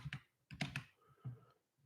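Quiet clicks of a computer keyboard come in short irregular bursts of a few keystrokes, close by with pauses between them.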